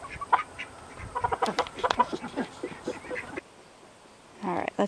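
Chickens cluck and squawk at a homestead chicken coop, a busy run of overlapping close calls that pauses, then resumes with a short burst.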